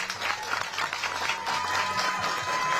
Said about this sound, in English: you can hear screams